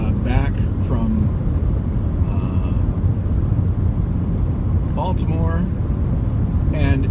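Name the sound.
Toyota RAV4 Prime driving, interior road noise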